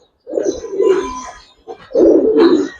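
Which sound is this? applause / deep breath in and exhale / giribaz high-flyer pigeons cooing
giribaz high-flyer pigeons cooing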